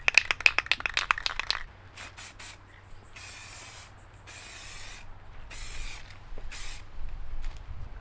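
Aerosol spray paint can laying a light dust coat onto a car headlight: several short hissing bursts, close and fairly quiet, after a few rattling clicks at the start.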